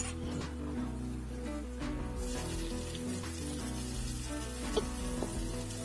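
Dried red chillies and curry leaves sizzle in hot oil for a coconut-free ash gourd moru curry: a continuous, dense, rain-like crackle over a low steady hum, with no voices.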